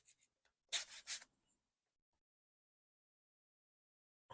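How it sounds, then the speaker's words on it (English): A sanding block roughs up the edges of a paper art journal page: two short, close abrasive rasping strokes, then quiet, with a faint scrape at the very end. "I'm just going to sand the edges. And we'll just rough it up a little bit."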